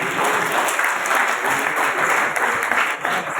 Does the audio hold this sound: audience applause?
yes